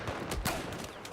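A sniper rifle shot in Battlefield 4, one sharp loud crack with a brief echoing tail, set among other scattered gunfire and ambient battle noise.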